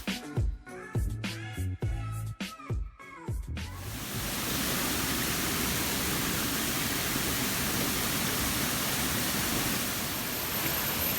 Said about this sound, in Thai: ชอบไหมน้ำตกที่นี่